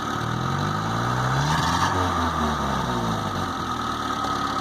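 A Geo Tracker 1.6 engine runs close and continuous as the throttle is worked, its tone rising and falling in a single rev near the middle with a steady underlying vibration.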